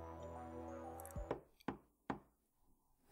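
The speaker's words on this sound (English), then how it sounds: "someone knocks on the door" Three sharp knocks land on a door, close and distinct, spaced under half a second apart, after a fading low tone and followed by a quiet lull and a soft final thump.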